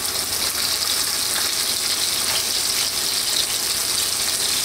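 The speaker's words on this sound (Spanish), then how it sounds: "Vamos entonces ahora a sofreír la cebolla, los zucchini, que también que se tienen que cocinar." Onion and zucchini sauté in a pan with an even, bright hiss. The steady sizzle holds close and unbroken throughout, with no voices.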